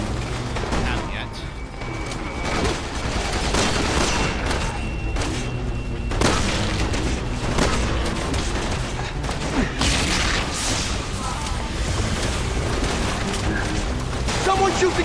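Rapid gunfire and booming blasts from a Resident Evil game run almost without pause, loud and dense, with voices talking over the fight.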